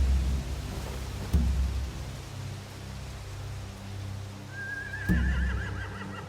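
A horse whinnies once in a scene from The Walking Dead video game over a steady low rumble of rain and wind, with a couple of dull thumps.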